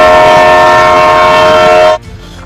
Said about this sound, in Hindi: अरे पीछे तो ट्रेन आ रही है।